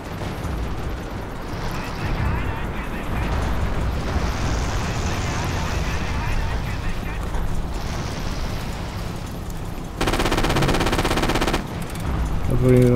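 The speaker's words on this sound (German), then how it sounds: "Oh, da werden wir angeschossen." Gunfire in the video game Forgotten Hope 2: continuous machine-gun bursts and rifle shots with booming explosions, dense and loud throughout, ending in a harsh sustained burst near the end, with game voices mixed in.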